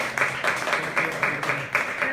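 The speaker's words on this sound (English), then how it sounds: "a round of applause, please." Audience applause for the presenters at a learning and development roundtable, a moderate patter of hands clapping with recurring louder bursts roughly every quarter second, steady throughout.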